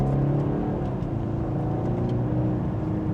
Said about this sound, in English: We'll give it a small acceleration.